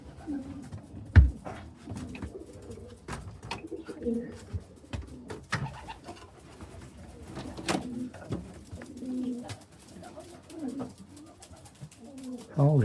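Racing pigeons coo softly at a loft after a 699 km race from Charleville, low repeated coos with scattered thumps and shuffling sounds throughout.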